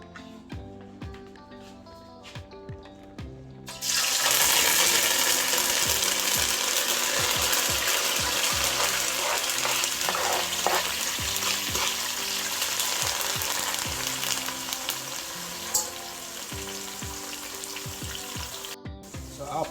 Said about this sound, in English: I'm going to go ahead and put the seasoning in the pot.